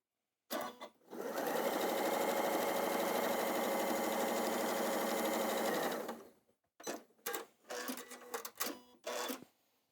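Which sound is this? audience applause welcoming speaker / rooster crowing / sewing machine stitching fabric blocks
sewing machine stitching fabric blocks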